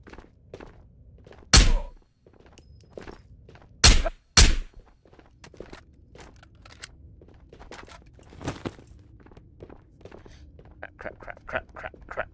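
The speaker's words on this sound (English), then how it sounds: "Yeah, I heard the footsteps." A few heavy, close thuds land in the VR game Ghosts of Tabor, two spaced apart and then a quick pair, over a quiet background with faint scattered taps.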